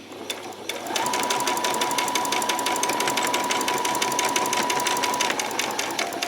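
A sewing machine stitches a peasant top with a back stitch: a brief start, then a loud, close, continuous rapid whirr of needle strokes for about four seconds before slowing and stopping.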